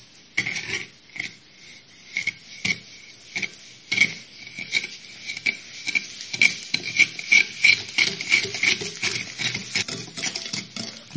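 Sugar being stirred by hand in a mixing bowl for a lemon cake batter, a gritty scraping rasp repeating in quick uneven strokes, close and fairly soft, with no talk.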